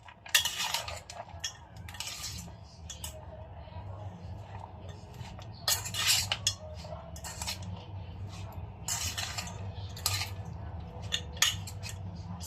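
Green and red chilies are mixed in a bowl, heard as light clinking and scraping of a utensil in irregular bursts over a low steady hum, fairly quiet and without talk.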